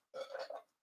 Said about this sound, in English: So here's a burp